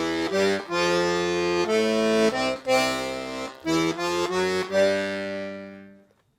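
A piano accordion plays a zydeco rock and roll accompaniment, pulsing bass and chord notes walking through root, third and fifth steps with a chromatic run up to G, loud and close, ending on a held chord that fades out.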